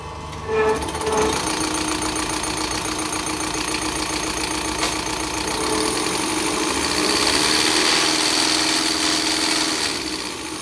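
A Ford 6610 farm tractor diesel engine runs steadily at starting revs, loud and close with a continuous knocking rumble that swells slightly midway, and no talking.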